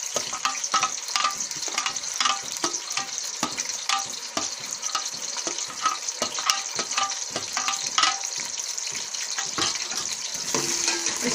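Tomatoes and green chillies fry in hot cooking oil, giving a close, continuous sizzle and crackle with occasional stirring scrapes, with no talking.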